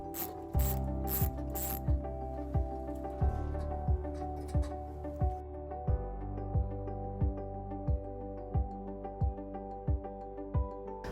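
A ratchet wrench loosens 8mm bolts on the front bumper fascia of a 2018 Jeep Wrangler, giving quiet, evenly spaced clicks through a series of strokes, with light metallic handling at the start.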